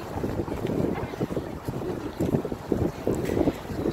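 Steady wind on an open beach near Santa Monica Pier, buffeting the microphone in close, uneven gusts and rumbles that run the whole time without speech.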